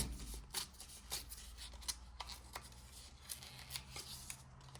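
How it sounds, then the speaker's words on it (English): Paper edges being ripped for a craft project, heard as a quick series of short, crisp tearing rasps at close range, about one every half second over a low, steady hum. "Then I'm going to rip the edges because I don't want a straight line"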